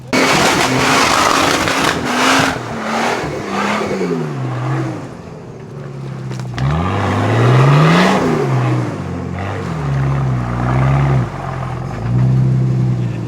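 An off-road vehicle's engine revs hard on a steep, slippery hill climb, loud and close, rising and falling in repeated surges as it strains, with wheelspin noise and a brief lull midway.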